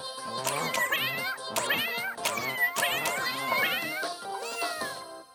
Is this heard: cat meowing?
yes